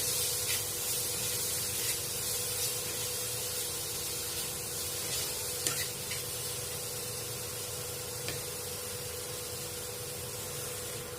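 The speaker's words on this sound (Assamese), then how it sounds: "ইয়াৰ পানীখিনি যোৱালৈকে ভাজি ল'ম" Momo filling fries in hot oil in a pan until its water cooks off. A soft, steady hiss runs evenly throughout with a few faint ticks.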